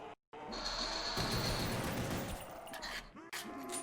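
Video game gunfire from an MP40 and a pistol crackles in a dense rapid burst for a few seconds, followed by another shot after a brief gap, with faint talk underneath.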